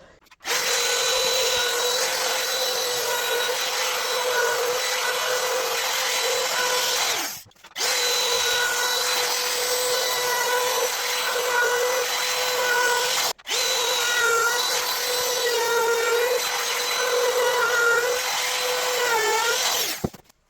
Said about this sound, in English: The piece that I'm going to use for the router is a bullnose router bit, and basically I'm going to make 3 shallow passes.